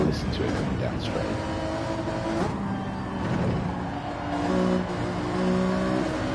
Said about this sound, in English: The engine sounds immaculate in the Alpha.